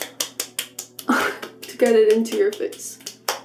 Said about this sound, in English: And you start clapping